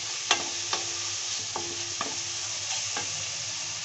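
Spices frying in oil in a pan for a guar bean sabzi; a soft, steady sizzle with a few light clicks of a utensil against the pan, quiet and without speech.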